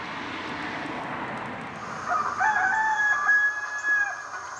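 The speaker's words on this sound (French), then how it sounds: "Alors ça, c'est les coqs pendant l'heure de midi." Neighbouring roosters crowing at midday, heard at a distance over steady outdoor background noise, with a few overlapping drawn-out crows in the second half.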